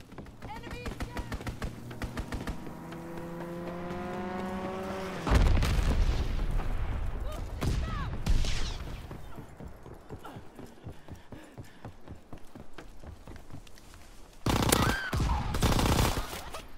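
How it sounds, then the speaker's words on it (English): A fighter plane strafes the ground in a Call of Duty: WWII team deathmatch: a loud burst of rapid gunfire and impacts cuts in over the game's tonal sound, with a second heavy burst near the end, while voices talk throughout. "Fighter pilot inbound, strafing the target."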